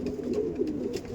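Udan Andhra pigeons coo softly and continuously, a low throaty murmur with a faint background hiss.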